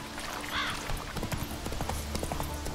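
Hoofbeats of a horse galloping in The Witcher 3 video game, a quick rhythmic clip-clop under game ambience for a few seconds, with a faint snort or voice near the start.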